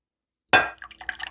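Teriyaki marinade poured into a measuring cup: a sudden close splash of liquid hitting the cup, then a trickling, gurgling pour with faint clinks, alone without talk.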